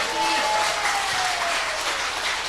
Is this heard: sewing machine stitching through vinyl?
no